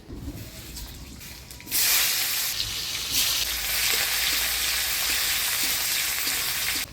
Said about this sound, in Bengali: এবার চচ্চড়িতে ফোড়ন দিব কালো জিরা, পেঁয়াজ কুচি।